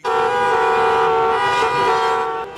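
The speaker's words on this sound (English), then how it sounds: "helping organize horn-honking protests against a proposed state income tax" Car horns blare in a sustained, loud chorus at a street protest against a proposed state income tax, several honks overlapping continuously for nearly the whole stretch before cutting off abruptly.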